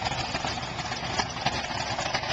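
Exhaust from a 1970 Dodge Challenger R/T with a 440 engine and 4-speed, a steady, loud, rumbling idle that holds even and close throughout with no pauses.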